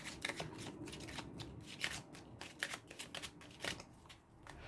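Oracle cards being shuffled and drawn: close, soft riffling and slapping in irregular bursts, faint and without talk.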